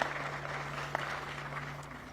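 Applause from a crowd at a live Sioux Falls city event, a steady distant wash of clapping with a low hum underneath and one sharper clap standing out.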